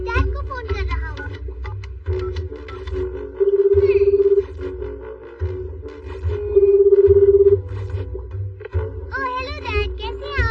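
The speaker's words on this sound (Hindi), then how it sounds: "अब देखते जाओ, मैं डैड को फोन कर रहा हूँ।" Cartoon telephone being dialed, heard as two steady electronic tones, each lasting about a second, set among animated character voices and background music.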